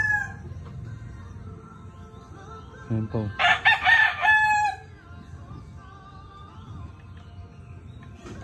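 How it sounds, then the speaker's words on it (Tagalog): A rooster crows once loudly and nearby amid outdoor background noise in Candelaria, Quezon, a rising then drawn-out call lasting a couple of seconds, with a few brief clucks before it and a short spoken remark. "Meron sila mga tandang dito."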